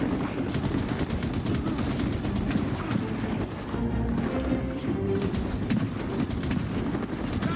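Turret gunfire in Gears of War 4 co-op: a sustained, rapid, loud stream of shots rattling almost without pause over the length of the passage, with battle noise behind it.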